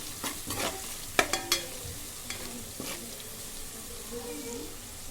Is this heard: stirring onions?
yes